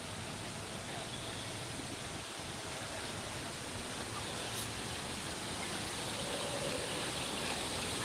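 Water in a small kids' lazy river at Disney's Typhoon Lagoon water park makes a steady, even rushing wash that stays constant throughout, close by and continuous, with no voices.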